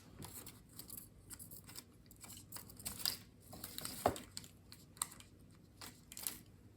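Scissors snip through Early Espresso faux suede trim in a few soft, quiet cuts with light crinkling between them, faint and close against a quiet room.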